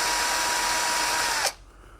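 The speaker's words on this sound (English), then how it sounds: "So I am drilling a 3/16" A power drill bores a 3/16 hole in a wooden birdhouse ornament, a steady high whine that runs loud and unbroken for about a second and a half before cutting off abruptly.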